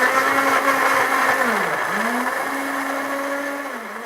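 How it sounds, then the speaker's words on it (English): A kitchen blender purees tomatoes for a sweet potato shepherd's pie, its motor whirring loud and steady, the pitch dipping twice as the load shifts before climbing back. "that's exactly now I'm moving over to blend the tomatoes."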